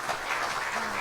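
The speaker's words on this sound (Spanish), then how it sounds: "Démosle un aplauso al Señor, hermano." A church congregation breaks into applause for the Lord during a sermon, a brief, dense burst of clapping filling the short moment at steady volume.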